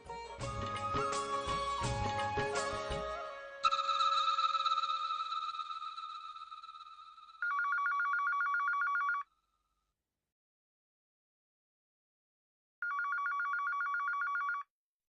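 Dialing tones and a series of electronic beeps give way to a telephone ringing back in two repeated warbling bursts with a long silent gap between them, clear and alone.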